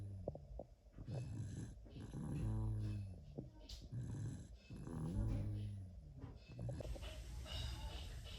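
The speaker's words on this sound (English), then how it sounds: "he is out and snoring" A sick, congested small child snores softly while down for a morning nap, slow rhythmic rasping breaths rising and falling in several cycles, quiet and close.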